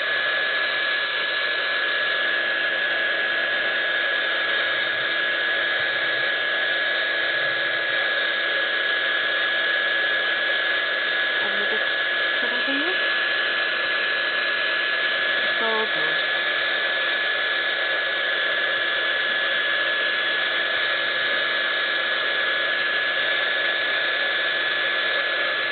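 A hair dryer blows steadily on paper faux metal pieces, a loud constant whooshing drone with a steady whine running unbroken throughout, with faint, brief sounds of the pieces being handled partway through.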